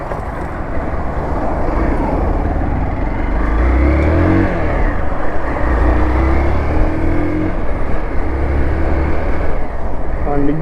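Hero Xpulse 200 motorcycle with single-owner history ridden on a test ride, its engine droning loudly and steadily under heavy wind rush, with gear-shift pitch changes throughout.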